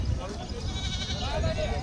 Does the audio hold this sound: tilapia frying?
no